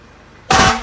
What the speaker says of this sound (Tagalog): Fire, air horn. Yan yung whistle.